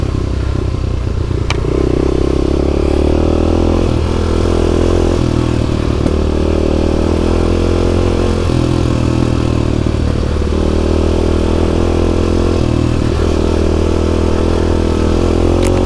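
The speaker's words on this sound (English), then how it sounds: "Getting a little bit tappy. I think the valves need doing." A motorcycle engine with tappy valves runs steadily up close, a loud continuous idle carrying a rapid mechanical ticking clatter and small shifts in engine tone.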